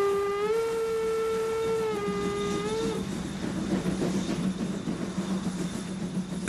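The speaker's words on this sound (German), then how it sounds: "Wir sehen ja auch, wie oft wir hier pfeifen müssen, einfach damit die Anwohner die Eisenbahn wahrnehmen." A class 80 steam locomotive sounds a long, steady whistle for about three seconds, loud and close, then the whistle drops away into a continuous rumbling, clattering run of the train.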